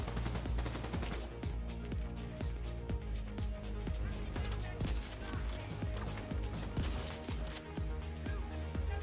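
Rapid gunfire in The Division 2, a dense run of sharp repeated shots over a steady backdrop of game music and effects, continuous throughout at moderate loudness.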